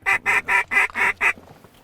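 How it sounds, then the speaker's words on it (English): Mallard ducks on a small pond in a flooded wheat field give six loud, evenly spaced quacks in a steady rhythm, close by, then fall quiet. "God, I love mallards. Prettiest duck out there."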